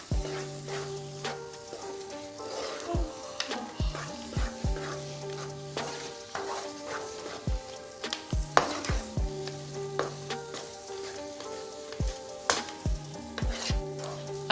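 A spoon stirs thick gram flour halwa with chopped dry fruits and cardamom powder in a pan, making frequent knocks and scrapes over a soft background sizzle, close up with no talking.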